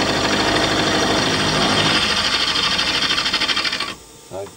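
Milling machine taking a cut across a tooling plate with a 12mm cutter, a dense loud whirring drone with rapid pulsing chatter that stops abruptly, leaving a brief quiet tail.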